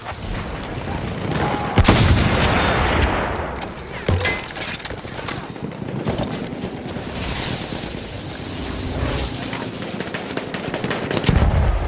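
In a war video game, dense machine-gun and rifle fire crackles in rapid, overlapping bursts for several seconds, loud and continuous, with occasional sharper single shots.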